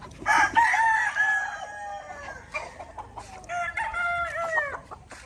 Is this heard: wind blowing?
no